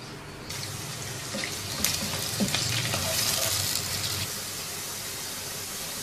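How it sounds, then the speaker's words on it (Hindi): A medium onion, sliced, hits four tablespoons of hot oil in a pot, and a bright sizzle starts suddenly, then holds steady and close with light bubbling for several seconds before easing slightly. "इसमें डाल देंगे सबसे पहले 4 खाने के चम्मच तेल के, 1 दरमियाने साइज़ का प्याज स्लाइसिस में कटा हुआ"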